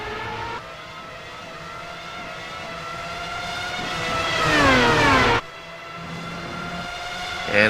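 Race car engines in iRacing at Watkins Glen scream steadily at close range. One car's pitch climbs through a gear, and a loud pass builds, then cuts off abruptly before the drone resumes, with no voices.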